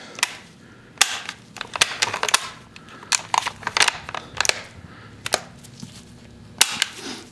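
The bolt of a Nazi-marked Mauser rifle is worked by hand at a firearms auction preview. Sharp metallic clicks and clacks come close and fairly loud in irregular bursts, with brief rattles between them.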